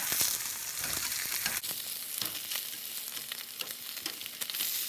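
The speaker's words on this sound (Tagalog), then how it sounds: "nagpiprito na ako ng aking spam" Steady crackling sizzle of Spam frying in its own oil in a pan, dense and close, with occasional sharper pops and spits throughout.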